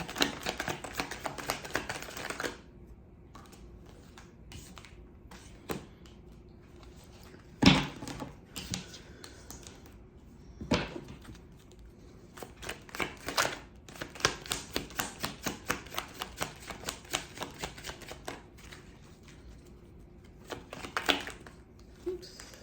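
A deck of oracle cards is shuffled and handled up close, giving quick flurries of soft riffling clicks and taps between quieter pauses, with a few sharper knocks, faint and with no talking.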